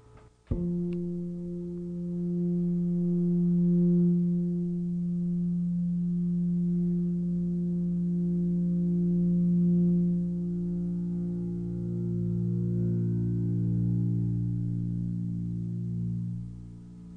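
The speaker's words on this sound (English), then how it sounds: "With the EBow, it's possible not only to sustain open strings and closed tones" A bass guitar note played with an EBow rings on with smooth, unbroken sustain after a soft attack, its low harmonics swelling gently and holding for many seconds, alone.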